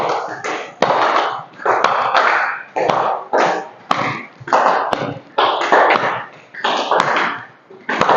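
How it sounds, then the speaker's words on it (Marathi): Rhythmic hand claps from a standing yoga exercise, alternating in front of and behind the body. Sharp, loud claps come close together in a steady repeating pattern throughout. "समोर टाळी, मागे टाळी."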